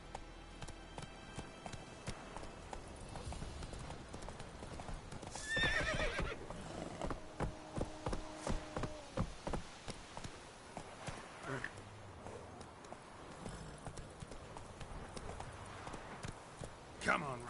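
Roach, a horse in a video game, gallops with a steady run of hoof clip-clops and several whinnies, set against ongoing game sounds and some talk.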